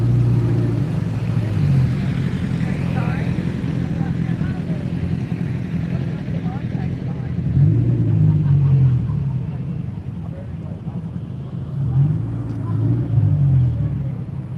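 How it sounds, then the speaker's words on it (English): Car engines rumble and idle in a low, steady drone as cars pull into a morning Cars & Coffee meet in Morrisville, with a few louder swells as vehicles pass close, under talk. "There's just so many cars coming in."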